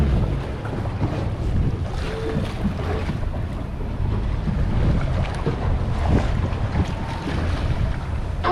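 An outboard motor drives a small fishing boat along on open water, a steady low engine drone mixed with wind buffeting the microphone and water rushing past the hull, constant and fairly loud throughout.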